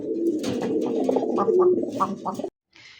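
Male and female pigeons coo loudly and steadily up close, a continuous warbling murmur with brief higher notes, stopping abruptly near the end.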